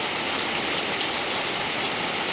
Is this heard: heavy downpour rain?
yes